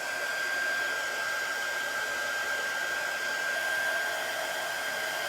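A hair dryer used as a heat tool over a chalk transfer, blowing a steady, unbroken whoosh with a constant high whine, close and even throughout.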